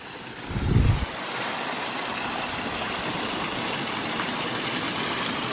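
A 4-inch micro hydro turbine unit starts up with a brief low thump, then settles into a steady, broadband rushing whir of water and spinning machinery that holds even and fairly loud to the end.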